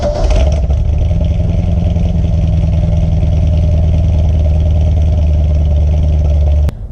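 A car engine with a modified cam and heads idles roughly with the check engine light on, giving a loud, steady, lumpy rumble with a clattery edge that cuts off abruptly near the end.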